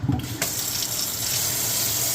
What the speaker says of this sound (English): We're going to spray this out real fast.